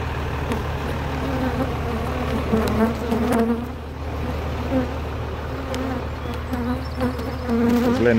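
Honeybees buzzing steadily at a beehive on a rainy day, a loud close droning hum with a low engine-like rumble underneath.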